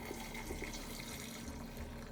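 Water is poured into a pot of chicken soup, a steady trickling splash with a few small drips, fairly faint and heard alone.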